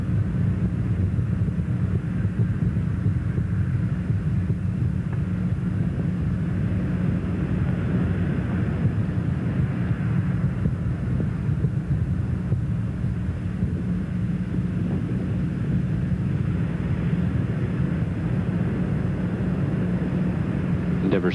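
Space Shuttle Endeavour lifting off from Kennedy Space Center on mission STS-99 produces a deep, steady rumbling roar that holds unbroken and fairly loud for the whole stretch, with no distinct breaks.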